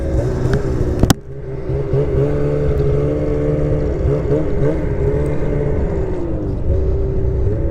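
Close and loud, a 2027 XRS 600RR snowmobile engine, still being broken in, runs with a sharp click at the start, then a steady rumbling idle with slight pitch wobbles throughout.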